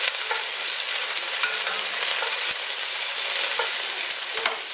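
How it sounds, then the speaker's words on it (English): Onion and garlic sizzle loudly and steadily in scorching hot olive oil for a chicken curry, with occasional soft clicks of stirring. The sound is close and continuous, with no speech. "I've got onion and I've got garlic. We're going to hit that to stir."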